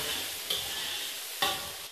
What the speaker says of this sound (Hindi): थोड़ा सा हम भूनेंगे, बस थोड़ा सा ही भूनना है ताकि ज़ीरे को थोड़ा तड़का लग जाए